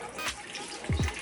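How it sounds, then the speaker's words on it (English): Beer poured into an Instant Pot as the liquid for a Cajun boil of shrimp, crab and mussels; a brief soft splash and gurgle close by, with two short low glugs near the end. "He is putting in beer in the Instant Pot."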